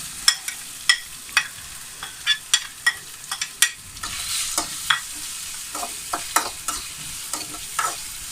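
Green chilies, ginger and garlic fry in coconut oil in a pan for a Kerala-style beef and plantain curry. A soft sizzle runs under repeated scrapes and taps of a spoon as the mixture is stirred.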